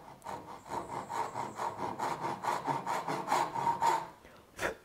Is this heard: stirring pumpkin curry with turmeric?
no